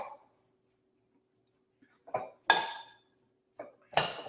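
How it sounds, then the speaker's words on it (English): A spoon stirring chopped apples and diced dates in a bowl, giving a few separate clinks and scrapes in two pairs of short knocks with quiet gaps between them, close and clear with no talking. "we're going to stir that all together"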